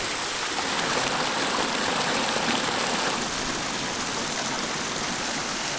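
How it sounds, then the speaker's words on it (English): Small river tumbling over a series of waterfalls at the bottom of a gully in the Brecon Beacons, Wales; a steady, dense rushing roar close by, unbroken throughout with no voices. "there are an awful lot more waterfalls than I was expecting"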